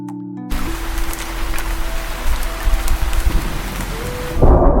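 Cartoon rainstorm over a village, with steady heavy rain hissing throughout and low thunder rumbling beneath it, loud and continuous after a brief quiet opening.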